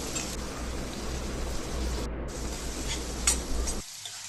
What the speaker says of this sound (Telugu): ఆనియన్స్ గోల్డెన్ బ్రౌన్ కలర్ వచ్చేదాకా వేయించుకోవాలి.